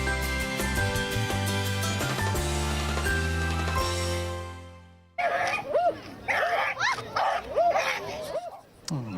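Dogs of several breeds, including cold-climate types, at a dog show in Shimla. Music plays first, then the dogs give a string of short yips, barks and whimpers, fairly close.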